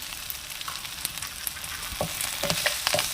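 Grated coconut stirred with curry leaves in a frying pan crackles with a soft, continuous sizzle, while quiet scraping and ladle clicks grow busier toward the end.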